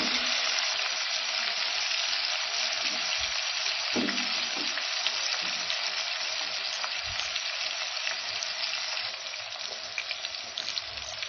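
Tomatoes fry with browned onions and oil in a pan while a tandoori chicken biryani is being made, a loud continuous sizzle up close, with a few soft stirring knocks.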